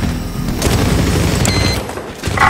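Cover fire in Medal of Honor Warfighter: a loud, sustained volley of gunshots and booming impacts crackles close up for about two seconds, then cuts briefly before another sharp burst.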